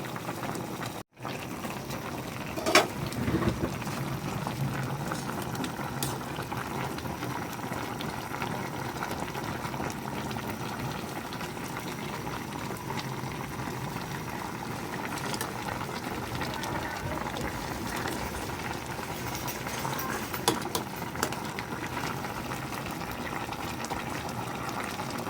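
Paksiw tilapia with vegetables simmers in a covered pot, a steady, even bubbling that runs unbroken the whole time at moderate loudness, with a few small clinks.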